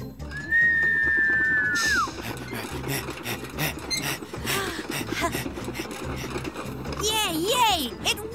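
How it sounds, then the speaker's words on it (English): A shrill cartoon train engine whistle blows once, long and steady before dropping off, followed by rattling, clattering activity, voices talking, and a few short wavering whistle tones near the end. "And this was a quiet whistle."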